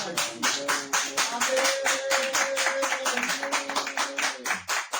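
Church congregation applauding together, a steady dense run of rhythmic clapping lasting throughout, loud and close, with a sustained sung or organ-like tone underneath.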